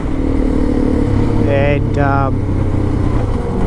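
Suzuki DRZ400E motorcycle engine droning steadily while riding through the Simpson Desert, a constant loud hum with a brief rising whine in the middle, and a voice speaking over it.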